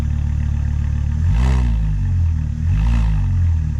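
A 2006 Volvo XC70 with a turbo 2.5 engine and new downpipe and full exhaust, revved twice from idle: two distinct swells rising over a steady idle rumble, close and loud, with no talk.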